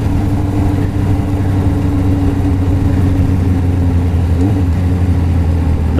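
The engine of a Suzuki GSX750F motorcycle with uncleaned carburetors runs loud and close, holding a steady, rumbling idle with a slight rev bump, alone without talk.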